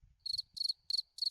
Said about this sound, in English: You want crickets?